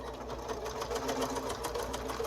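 A sewing machine stitches a fabric nose strip mask in a rapid, steady mechanical chatter, close and continuous throughout.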